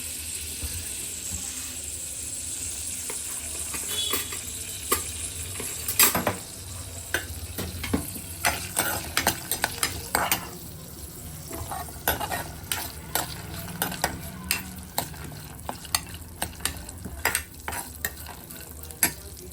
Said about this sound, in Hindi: अब इसके अंदर में ये काजू टुकड़ा है, इसको थोड़ा सा भून लूँगी पहले।